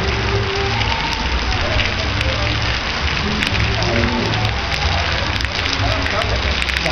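Steady rain pours down outdoors during a Mother's Day family gathering, a dense, loud hiss of drops hitting surfaces throughout, with faint voices mixed in underneath.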